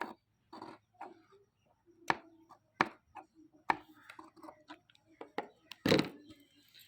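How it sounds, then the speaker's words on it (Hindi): Embroidered winter fabric being cut single-layer for a neckline, giving a series of sharp, separate snips and thunks with short pauses between them, close up and with no talking. "अब मैं नीचे वाले कपड़े की भी कटिंग कर दूँगी।"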